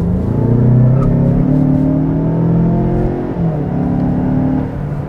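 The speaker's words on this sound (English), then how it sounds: "Now that we're coming onto an on-ramp, it seems like as good a time as ever to give you a little acceleration." A turbocharged 2021 Mazda 6 sedan pulling hard up a highway on-ramp, the engine revving in a rising, steady roar heard from inside the cabin, with a gear change partway through.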